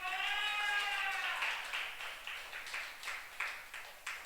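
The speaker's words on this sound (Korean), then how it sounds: "박수 한번 하겠습니다" A voice leads into clapping at a youth church service, where scattered claps grow into a rhythmic run of separate, fairly close handclaps.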